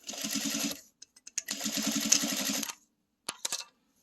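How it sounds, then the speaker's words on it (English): A sewing machine stitches fabric with a regular stitch in two close, rapid, rhythmic bursts, each lasting about a second, separated by brief pauses and followed by a few short clicks. "I'm just going to do a regular stitch"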